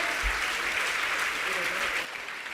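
An audience at a Jain religious gathering in Shikharji, Jharkhand applauds steadily during an honoring. The clapping is dense and fairly loud, and it eases slightly near the end.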